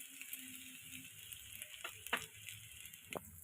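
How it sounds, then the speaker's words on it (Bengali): Spiced potato and bread chop filling with ginger and green chilli frying in a pan, giving a faint, low sizzle with a few soft clinks of stirring and no voices. "এবার আমি কিছুক্ষণের জন্য ভেজে নেব।"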